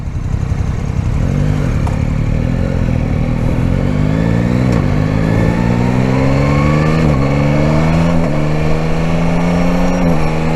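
Yamaha Tracer 9 GT 2021 motorcycle riding at speed, its engine pitch climbing through gears in a steady rising drone with quick shifts breaking each pull, close and loud with constant wind rush.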